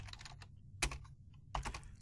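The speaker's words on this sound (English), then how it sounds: "Let me try typing it again." Keystrokes on a computer keyboard while code is entered in an editor, arriving in short bursts of soft clicks with a couple of louder key strikes, close and distinct, with no voices.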